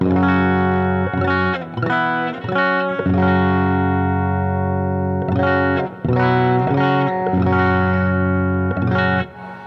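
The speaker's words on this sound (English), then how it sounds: "right now you're hearing nothing but the amp, just the reverb in the amplifier and the amplifier itself" Clean electric guitar chords strummed through a tube amp, drenched in spring reverb, ringing out in sustained phrases with brief gaps between them.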